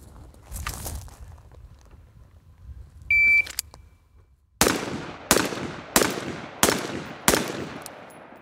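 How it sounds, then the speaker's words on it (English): Five loud rifle gunshots fired through a Vortex Razor 1-6 HD II scope setup, evenly spaced about a second apart, each a sharp crack with a ringing tail, after quieter handling noise and a brief beep. "So I'm just shooting with the reticle. Here we go, 5 rounds."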